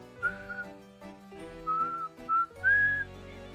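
A person whistles nearby in short melodic phrases, several bright, clear notes with brief gaps between them and no talking.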